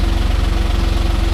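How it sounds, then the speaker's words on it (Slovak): A parked courier's car engine idles steadily up close outside a residential building, a loud, even low rumble with a fast rhythmic throb and no voices. "Ale vypnite si auto, nemôžete mať naštartované auto."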